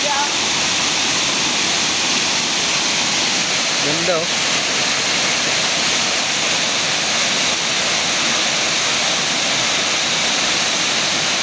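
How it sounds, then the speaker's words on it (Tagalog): A waterfall roars in a steady, loud, broadband rush that fills the whole stretch, with a person briefly speaking over it midway. "Tugpahan na dia."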